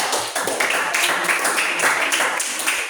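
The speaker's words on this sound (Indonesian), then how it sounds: "sama ya dengan tepuk tangan dulu kelompok 1" A classroom of students claps together for a group, a dense, steady patter of many hands that is loud and close and fills the whole stretch without talk.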